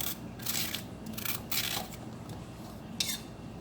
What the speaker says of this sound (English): Rotate or move the cucumber from one side to the other so that you can get a good scoop.